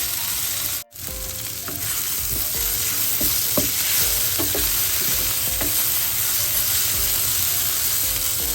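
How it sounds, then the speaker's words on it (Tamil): Onions half-softened and sautéing in a pan for a Tamil egg masala fry, giving a steady close sizzle with occasional stirring scrapes and one brief dropout near the start, no voices. "வெங்காயம் ஒரு அரைப்பழம் வதங்கி கொண்டு வந்துருக்கு. இன்னும் கொஞ்சம் நேரம் வதங்க இருக்குது. வதங்கட்டும்."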